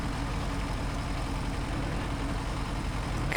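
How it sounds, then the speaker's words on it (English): A heavy 8x8 Caterpillar truck on big tyres in the Snowrunner game, its engine droning in a loud, steady low rumble that holds constant for a few seconds without a clear rise in revs. "I can hear the caterpillar revving its engine all the time"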